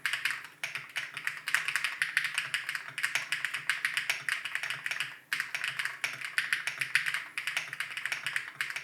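Rapid, steady typing on a Titan HE Hall effect keyboard with linear switches: soft, muted clacks and thocks, close up, continuous with a brief pause midway.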